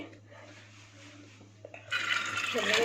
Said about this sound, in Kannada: ಬೇಳೆ ಹಾಕೋಣ ನೀರು ಸಮೇತ ಹಾಕ್ತಿದ್ದೀನಿ